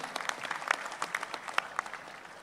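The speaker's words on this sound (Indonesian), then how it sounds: "Tepuk tangan buat kita semua." Audience applause at the closing ceremony of the 2025 North Sulawesi provincial sports week (Porprov), a moderate, slightly distant patter of clapping with scattered sharper claps lasting a couple of seconds.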